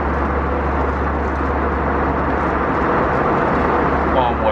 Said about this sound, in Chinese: 目前不戴这个耳机呢，这个飞机的低频噪音非常的明显。